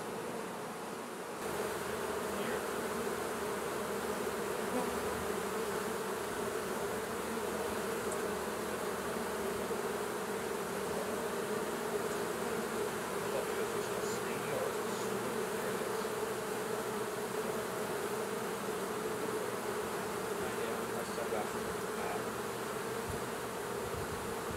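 Honey bees buzz around an open hive while escape boards are fitted, a dense, continuous drone of many bees, close and steady throughout with no talking.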